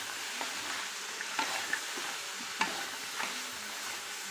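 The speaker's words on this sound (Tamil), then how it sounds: "நல்லா வதக்கிக்கலாம்." Mixed vegetables sautéing in oil with salt for a kurma, a steady soft sizzle with scattered stirring scrapes and light clinks of a spoon against the pan, close and alone.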